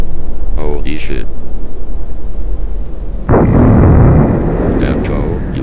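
Huge rumbling blast from a laser beam blowing up a mountain in the video game Oblivion, a loud sustained roar bursting in midway after earlier voices and game noise, then slowly fading.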